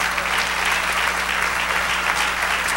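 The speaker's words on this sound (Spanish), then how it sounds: "Dale un aplauso al Señor." A church congregation claps and applauds together for the Lord during a Spanish-language sermon, a steady, dense wash of hands that holds at an even level throughout.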